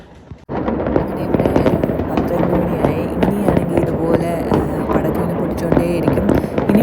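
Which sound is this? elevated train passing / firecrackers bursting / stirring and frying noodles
firecrackers bursting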